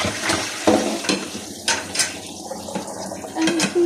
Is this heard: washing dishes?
yes